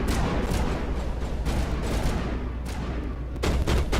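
A shotgun in the video game Mass Effect Legendary Edition fires a rapid string of loud, punchy blasts in close succession, dense and forceful with brief bursts near the end.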